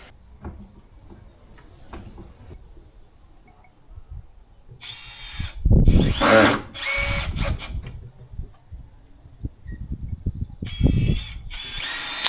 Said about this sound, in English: I then needed to go around and secure it with more screws. All I'm using is wood screws.